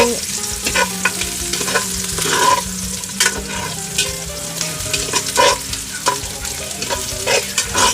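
Ingredients for chicken tinola sautéed and stirred in a hot pan, a loud steady sizzle broken by repeated scraping and clattering strokes of a utensil, close up with no talking.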